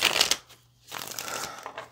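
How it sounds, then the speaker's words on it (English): A brief riffle of tarot cards being shuffled, a short pause, then another soft shuffle, close and quiet. "let's get one more shuffle"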